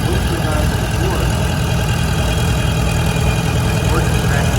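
A 1966 model 734 orchard tractor engine idling loudly and steadily nearby at an antique power parade, a rough, continuous low rumble; a voice may be speaking over it.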